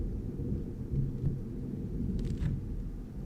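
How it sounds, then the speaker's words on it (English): Distant thunder from a thunderstorm rumbles low and continuously through a home room, with a couple of faint short clicks on top and no talk. "Wonder if you guys can hear the thunder in the background."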